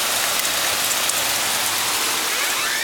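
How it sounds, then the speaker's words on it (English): Strong hail outside makes a loud, continuous hiss and patter with no gaps, close and unbroken throughout. "Look at the hail outside."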